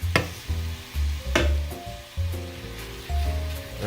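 Ground chicken cooking on high heat in a pan, with a steady sizzle broken by repeated scraping and pressing sounds as the meat is flattened, fairly close and loud.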